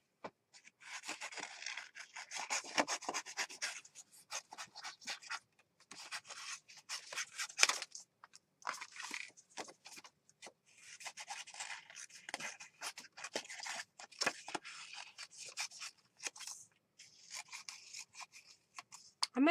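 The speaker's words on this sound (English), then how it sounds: "now what I need to do is fussy cut these out" Scissors fussy cutting paper pieces for a junk journal, close, quiet snips and rasping cuts in irregular bursts separated by brief pauses.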